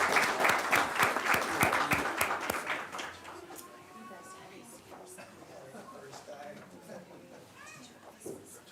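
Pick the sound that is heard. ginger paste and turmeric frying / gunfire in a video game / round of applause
round of applause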